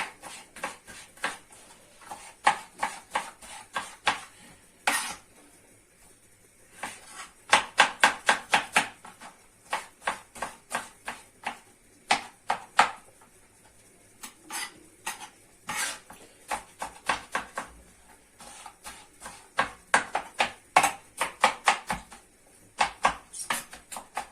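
Rapid knife chops through tomatoes on a cutting board, coming in quick bursts with short pauses, close and crisp, with no talking.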